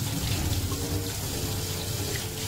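Warm tap water runs steadily from a faucet as hands are rinsed at a sink, a continuous close splashing hiss with no voices.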